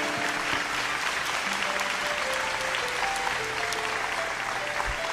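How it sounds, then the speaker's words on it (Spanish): Sustained audience applause fills a live unplugged salsa concert in Medellín, Colombia, a dense steady wash of many hands clapping with faint tonal sounds underneath. "Y hay que dar un fuerte aplauso a eso"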